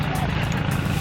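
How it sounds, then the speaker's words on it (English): Camera drone on a tropical island beach flying close by, its loud, steady propeller buzz and whine filling the whole second without a break. "Okay, so we're about to fly the drone."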